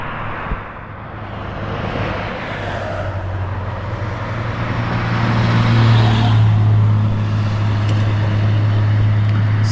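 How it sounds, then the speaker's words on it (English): Vehicles passing on a roadside near a historic crash site, a broad low rumble and tire roar swelling as one draws close and passes. "Speaking of vehicles that drive by"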